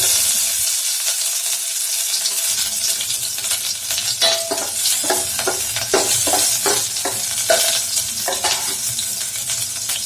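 Green chillies frying in hot oil for Maggi noodles, a steady loud sizzle and crackle running throughout, with a spatula scraping and stirring the pan in repeated strokes during the second half.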